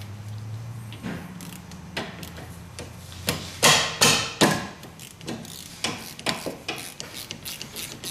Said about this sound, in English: We're going to crack our bolts loose. Crack the bottom one loose.